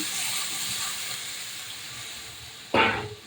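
Water hits a hot pan of frying fish and ghati taro with a sudden loud sizzling hiss near the end, after a steady soft frying hiss.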